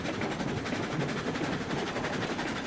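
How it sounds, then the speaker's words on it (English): Small steam locomotive from RailRoads Online video game running steadily, a continuous rumbling chuff with rhythmic pulsing, fairly loud and close, with no voices. "That's probably my favorite small locomotive, if I had to be honest."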